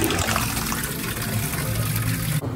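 Steady rushing, splashing water on The Secret Life of Pets water ride at Universal Studios, loud and close, then cuts off abruptly near the end.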